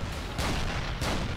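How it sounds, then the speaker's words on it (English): A 20mm cannon fires in the video game Dino D-Day, two loud booming blasts roughly half a second apart over dense, noisy battle ambience. "It's a 20mm cannon, that's not little, that's devastating."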